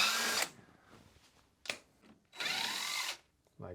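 Short whirring bursts from a power tool loosening bolts during front wheel bearing work on a Renault 5 GT Turbo, three separate spins separated by quiet pauses, close and fairly loud.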